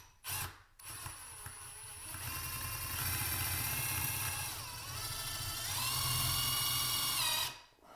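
A power drill drives a screw into a wooden wall stud, with a loud close motor whine that rises and dips in pitch as the screw bites and slows, then stops abruptly.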